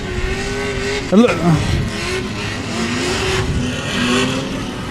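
Drift cars at the LS Fest Texas 2025 Drift Challenge Top 32, one engine rising and falling as a car sweeps past, heard over a constant crowd roar and an announcer's voice.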